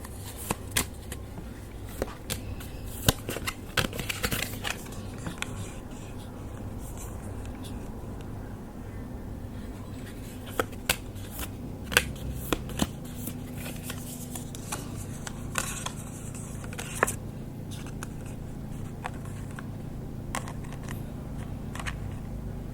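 Tarot cards are shuffled and drawn at close range, giving soft papery riffles, slides and sharp flicks scattered irregularly over a long stretch, with no voice heard.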